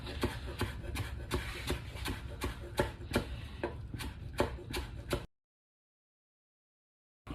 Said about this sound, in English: Also take, I don't know, about a quarter of a bunch of cilantro and chop it up.